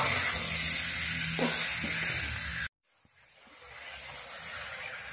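Spices with chili powder stirred and fried in a pan for a village-style home recipe, a steady loud sizzle and hiss that cuts off abruptly, then builds back gradually.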